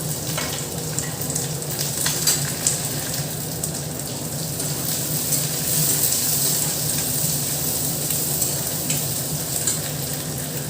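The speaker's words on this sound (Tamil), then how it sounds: "ஒரு பெரிய வெங்காயம் கருவேப்பிலை சேர்த்து நல்லா வதக்கிக்கலாம்." Onion and curry leaves sautéing in oil in a pan for a liver dish, giving a loud, dense, continuous sizzle and frying hiss close by. Faint stirring is heard beneath it, and no voices are present.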